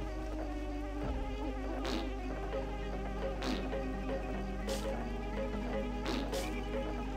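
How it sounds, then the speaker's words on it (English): A dense insect-like buzzing from a swarm of bees in the Banjo-Kazooie video game drones steadily throughout, layered over game music, with a few brief brighter bursts rising out of the mix. "Where am I hearing this entire swarm of bees?"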